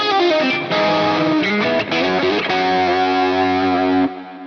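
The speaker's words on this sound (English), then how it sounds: "This is the Silver Jubilee, Brit Silver, I think it's in the Fractal." Electric guitar through an Axe-Fx III Brit Silver (Silver Jubilee) amp model with delay and reverb, playing loud, sustained distorted chords and lines alone for about four seconds before cutting off.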